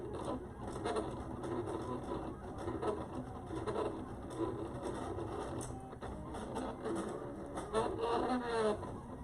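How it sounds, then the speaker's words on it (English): A small Silhouette vinyl cutting machine runs steadily nearby, whirring and scraping with irregular ticks and movements, a continuous mechanical drone throughout. "I've got my Silhouette machine cutting right now."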